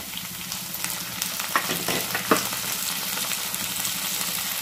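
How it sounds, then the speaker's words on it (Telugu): Onion pieces frying in a pan for methi rice give a steady, close sizzle with a few scraping stirs and small clinks in the middle, no talking over it. "ఉల్లిపాయ ముక్కలు వేసుకొని ఫ్రై చేసుకోవాలి."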